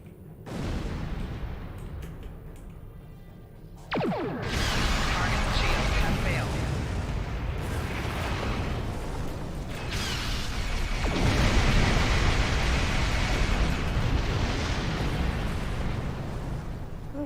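Starship weapons fire in the Star Trek Online video game, heard as loud rumbling bursts and sustained booming blasts in close succession, with talk over the din.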